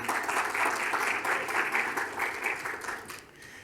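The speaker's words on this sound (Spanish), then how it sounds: "Un aplauso." Steady applause from a crowd, dense and sustained, fading slightly near the end.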